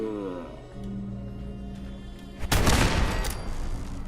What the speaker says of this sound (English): I blew up this machine gun turret and it ragdolled that lady